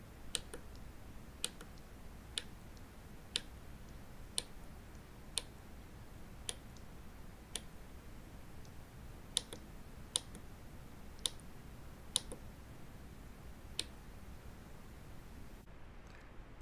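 Push buttons on an Arduino circuit are pressed one after another, giving faint, sharp clicks about once a second, roughly fifteen in all, over a quiet background hiss.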